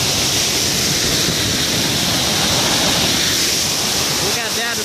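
A tremendous, straight-falling waterfall torrent pours down into a stream, a loud, dense, continuous roar of rushing water close by, with no speech over it.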